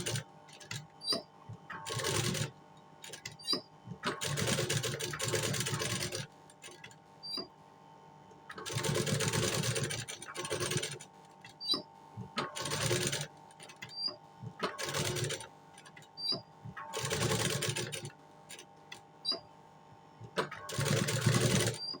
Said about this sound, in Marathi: त्याच्यावरती आपल्याला शिलाई मारून घ्यायची आहे डिझाईनवरती